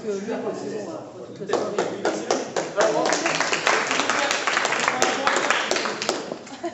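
A conference audience on memory training claps in a burst of irregular hand slaps that builds and continues steadily, with people talking over it.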